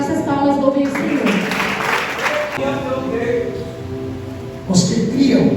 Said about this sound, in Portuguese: Que as nossas palmas louvem o Senhor.